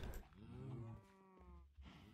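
A cow in the video game Project Ozone 2 lets out a drawn-out moo, one clear call followed by a shorter second one, close and fairly loud with no talking.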